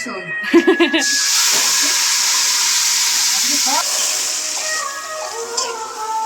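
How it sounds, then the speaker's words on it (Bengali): Marinated chicken is dropped into a hot wok and sizzles loudly, a steady broad hiss that holds for several seconds and then fades slightly, with a few brief voices near the start. "চিকেন ও ম্যারিনেট ট্যারিনেট সব করা জাস্ট কড়াইতে ফেলবে"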